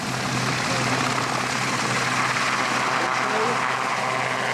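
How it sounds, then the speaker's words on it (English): An RAF Sea King HAR-3 helicopter of 202 Squadron departs after an air display demo, a loud, continuous roaring rotor and engine drone filling the air without letup. "departing back to its base at RAF Leconfield, the Western Sea-King HAR-3 from E Flight of number 202 Squadron"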